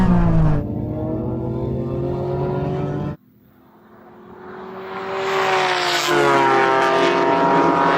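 A loud, high-revving sports car engine in a racing game drones, drops off sharply mid-way, then climbs again as it accelerates hard; cars include an R34 GT-R and an NSX.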